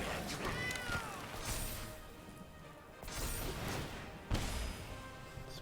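Cat meows in the MTG Arena digital card game, several short cries over a busy backdrop of game music and effects, with faint overlapping swooshes and a sharp thump near the end.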